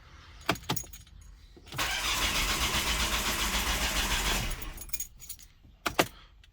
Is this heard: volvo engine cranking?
yes